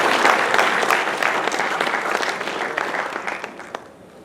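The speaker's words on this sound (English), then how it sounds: "let's give a round of applause for all the Telugu physicians" A ballroom full of dinner guests applauds Telugu physicians in a Dallas hotel, loud dense clapping that gradually thins and fades out toward the end with a few last scattered claps.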